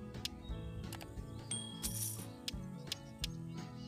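Coins being collected in the Hay Day farming game: a string of bright metallic clinks and chimes at irregular intervals over soft background game music.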